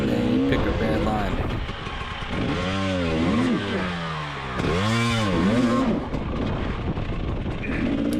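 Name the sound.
dirt bike engine revving on steep hill climb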